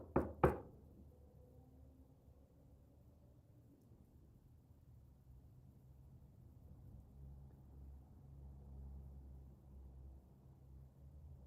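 Two sharp, close knocks on a surface in quick succession, followed by a long stretch of faint low background rumble.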